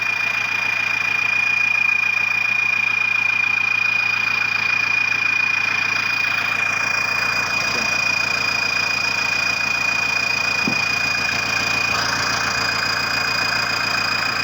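A Kubota L5018 tractor engine fitted with a turbo runs at a steady idle, a continuous near rumble with a high whine and no talk over it.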